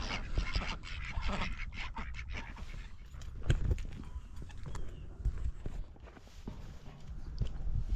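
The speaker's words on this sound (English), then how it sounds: "these ducks are starving, aren't you? You hear them?" Hungry ducks quacking in a noisy outdoor fishing scene, mixed with thumping and scuffing sounds throughout; the calls are busy and close.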